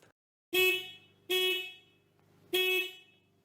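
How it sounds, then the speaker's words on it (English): Three short, bright honks from the "Car Horn Tiny" sound effect, the first two close together and the third after a pause, with silence between them. "I think the horn sound is actually called Car Horn Tiny"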